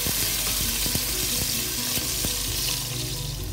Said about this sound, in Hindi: इसके बाद हमने 1 टेबलस्पून उसमें लहसुन डालना है और इसको फिर हमने भूनना है